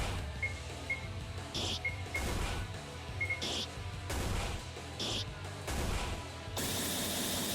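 A creeper's explosion attack in a Minecraft-style fan game: several loud, crashing blasts repeat at roughly even intervals, each a broad burst over a rumbling game background with no talking.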